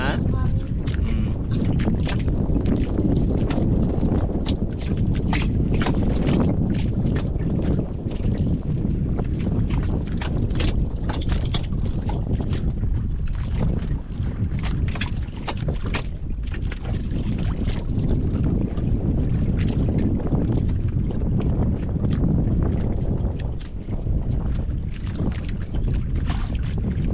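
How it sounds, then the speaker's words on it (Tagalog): Strong wind buffets the microphone throughout, a loud rough rumble with gusty swells, over an open-water fishing boat setting with a voice talking now and then. "Mahangin-hangin pa rin eh."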